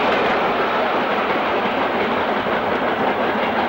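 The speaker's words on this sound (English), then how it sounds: "Saltley's 92082 drifts downhill on the 29th of September" Steam locomotive 92082 drifting downhill with a train in 1962, giving a steady, close rolling rumble and clatter of wheels on rail that continues evenly throughout with no voices.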